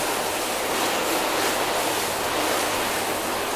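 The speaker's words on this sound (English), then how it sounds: "Grab the hose and we'll rinse these down." Water hose spraying and rinsing down car panels during a detailing wash, a steady broadband hiss of running water that stays even and close throughout with no pauses.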